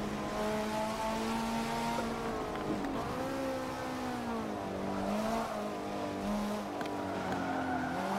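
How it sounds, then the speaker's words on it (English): A widebody Maserati in the Forza 7 racing game is pushed hard, its revving engine note rising and falling, with tire squeal and backfire pops loud and close throughout. "Oh, the backfire sounds amazing."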